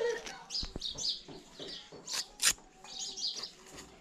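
A fallen sparrow chick and nearby sparrows chirp from a nest in a village yard, with thin, high tweets repeating intermittently over faint outdoor background noise, fairly close but quiet.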